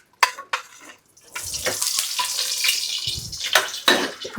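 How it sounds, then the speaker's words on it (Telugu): Chicken frying in a pan for a Sunday meal: a few sharp clicks at first, then a steady close sizzle with scraping stirs and spatula knocks, no voices. "ఇప్పుడు నేను మా అన్నయ్యల కోసం చికెన్ ఫ్రై చేస్తాను"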